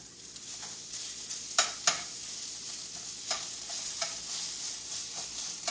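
Hot sausage browning in a pan gives a steady, soft sizzle with a few sharper scraping stirs mixed in, close and fairly quiet, with no voices.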